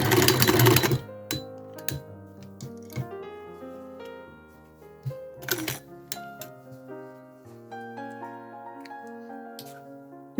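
A sewing machine stitches a placket on a Victorian-style garment, with a loud burst of fast running at the start followed by slower, uneven clicks and taps of the mechanism and a short renewed run, all close and without talk.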